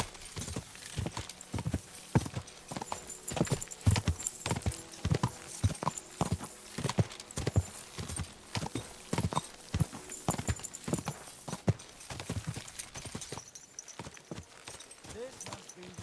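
Steady clip-clop of horse hooves trotting at a brisk rhythm in Kingdom Come: Deliverance II, close and continuous, with a brief whinny and some background game sounds.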